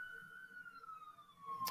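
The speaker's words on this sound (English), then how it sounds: "Excuse the sirens outside my apartment." A fire department siren wails faintly in the distance outside an apartment, a single descending tone drifting slowly downward, heard from indoors against a quiet background.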